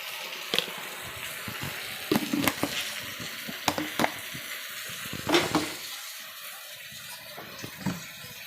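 Tomatoes cooking down in a pan for a chutney, giving a soft steady sizzle and bubble with scattered sharper pops and spatters, close by and fairly quiet.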